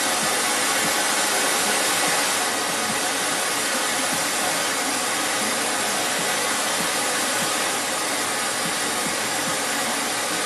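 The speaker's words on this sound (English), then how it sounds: "if you want a hotter flame, more fire, well, turn your acetylene up and turn your oxygen up" An oxy-acetylene torch with both acetylene and oxygen turned up roars in a loud, continuous hissing rush that holds steady throughout, with no talk over it.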